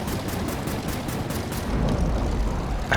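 Rapid gunfire from a fighter-plane shooter, Air Wars 3, built in Unity and HTML5: a dense, steady stream of shots with rumbling explosions swelling toward the end, loud and continuous with no talk.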